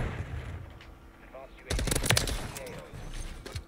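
Bursts of automatic gunfire crackle from a Modern Warfare 3 multiplayer match, with rapid overlapping shots clustered mid-clip among quieter background action, while a player talks.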